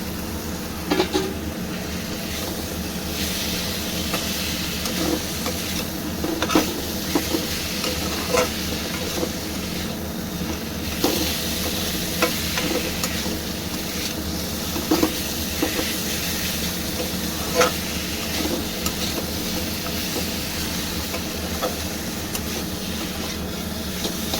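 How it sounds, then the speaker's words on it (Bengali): Potato and pointed gourd pieces are stir-fried in a spiced masala in a pan, giving a steady close sizzle with repeated scraping stirs throughout and no talk. "এবারে আমি আলু পটলটা দিয়ে নেড়ে নেবো"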